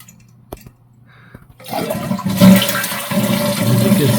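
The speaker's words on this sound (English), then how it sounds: "I was watching as I flushed the toilet, and I'm going to do that right now." A household toilet with a flapper and fill valve being flushed: a couple of faint clicks of the handle, then a loud, close rush of water swirling and draining, followed by steady refilling, with no talking.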